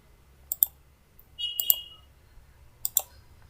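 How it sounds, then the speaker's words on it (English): Computer keyboard keys clicking during road design work in SW Road V2 Professional software, a few crisp isolated clicks spaced apart in a quiet room with no talking. "So just hit the back button in your keyboard and select this node."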